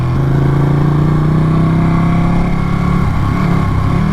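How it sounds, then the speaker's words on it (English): A Ducati sport motorcycle engine roars loud and close at high revs through the turns of the Tail of the Dragon road, holding a steady pitch before shifting slightly near the end. "This is everything that a sport bike was made to do, was go fast in turns"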